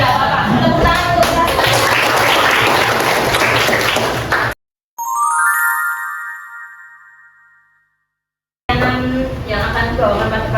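A class of students clapping their hands together in a loud, dense burst, then stopping abruptly, with a teacher talking around it and a short melodic electronic chime playing in the pause.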